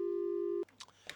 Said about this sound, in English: Well, we've lost lawyer Adolfo there